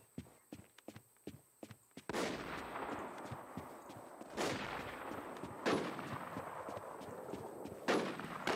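Sharp gunshots crack out in the zombie survival shooter Infestation The New Z, first a quick run of faint footstep-like ticks, then several loud reports with long echoing tails spaced a couple of seconds apart.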